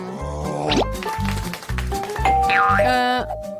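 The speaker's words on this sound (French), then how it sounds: "C'est la sonnette?" A doorbell chimes in a ding-dong pattern over playful background music with bouncy tones, fairly loud and close.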